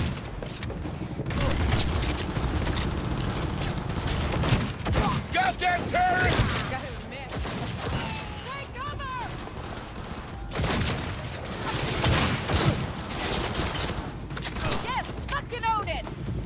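Gunfire rings out in Cyberpunk 2077, with repeated sharp pistol shots and bursts at close range, coming in clusters among other combat noise while a player talks over much of it.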